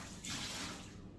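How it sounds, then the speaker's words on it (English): Soapy bleach water swishes and splashes as a cleaning cloth is rinsed out during the cleaning of a standing fan, a brief, fairly quiet burst of running water with no talking. "I'm just going to rinse out my cloth with my soap water, soap and bleach water."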